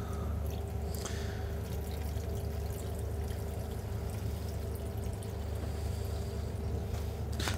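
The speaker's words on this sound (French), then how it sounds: "Et on verse de l'eau chaude." Hot water poured gently into a water bath for crème caramel ramekins, a steady, continuous pouring and trickling wash that runs unbroken at an even level with faint drips over it.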